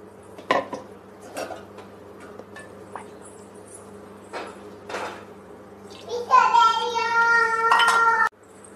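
Metal pan handling on a home kitchen stove while cooking fish curry: scattered clinks and taps of cookware, then a sustained sizzling clatter near the end, with a voice heard faintly in the background.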